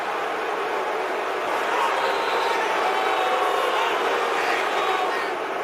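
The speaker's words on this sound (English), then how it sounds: "Crowd really upset." Upset football stadium crowd at an NFL game between the Arizona Cardinals and New England Patriots, a broad, sustained roar of boos and shouting across the whole clip, steady and loud from all around.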